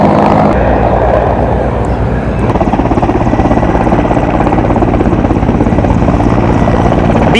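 A BSF Mi-17 helicopter comes in to land at a police training college, its loud, continuous rotor thump and turbine roar filling the scene close by and steadying into a strong rhythmic beat.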